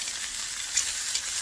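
Half-dried, butterfly-cut salted anchovies frying in a pan, giving a steady bright sizzle with a couple of small pops, close and alone.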